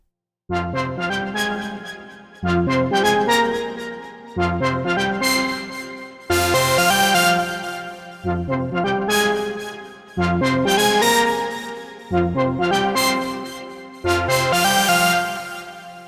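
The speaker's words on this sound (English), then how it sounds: "This lead sounds really big, but it's actually only using the sawtooth oscillator and the sub oscillator" A big synth lead from Diva, built from only a sawtooth oscillator and a sub oscillator, plays a repeating chord phrase in regular two-second bars, bright and buzzy, loud and alone.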